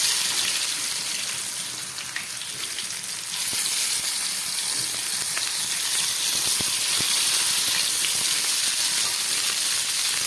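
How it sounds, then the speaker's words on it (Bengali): Pointed gourd (potol) frying in hot oil with panch phoron, a steady loud sizzle and hiss with scattered small pops, continuous throughout at close range. "এবার এই ভেজে রাখা পটল যে দিকটা সিল করা আছে সেদিকটা তেলের উপরে দিলাম।"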